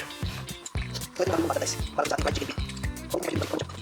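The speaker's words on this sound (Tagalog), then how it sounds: "Lagyan natin ng konting tubig." A small splash of water is poured into a chicken feet mixture being prepared for frying, with short wet drips and sloshes while a voice talks over it.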